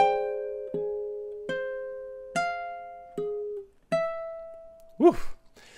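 Ukulele measures 9 and 10 of a Hawaiian song played slowly, a steady run of single plucked notes each ringing and fading, followed by a short exclamation at the end.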